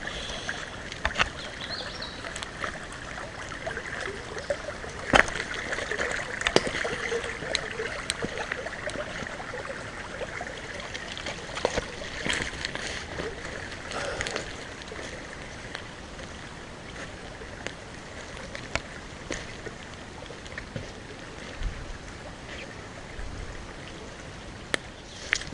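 Rainwater runs along a flooded forest trail like a creek, a steady broad rushing wash with scattered drips and small splashes, fairly close, continuing evenly for the whole stretch with no voices.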